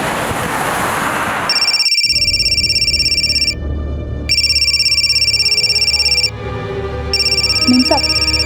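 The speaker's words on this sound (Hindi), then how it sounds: "आपका फोन बहुत बज रहा है।" A mobile phone rings loudly nearby in a domestic drama scene, its electronic ringtone repeating in bursts separated by short pauses.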